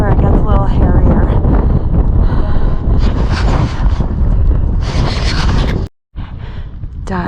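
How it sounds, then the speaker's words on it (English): Loud wind buffets the microphone in heavy gusts on Longs Peak in Colorado while a climber speaks close by, then a brief drop to near silence before the roar returns. "it's really windy"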